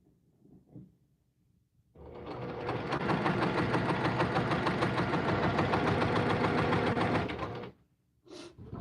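A sewing machine stitches quilt fabric in one sustained, close run of about six seconds, a loud rhythmic motor chatter with quiet handling sounds before and after.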